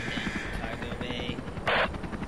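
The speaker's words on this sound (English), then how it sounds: "Is there a helicopter behind you?" Helicopter in the Henry Stickman video game, a rapid low rotor chop with gunfire-like bursts and a sharp noisy blast near the end.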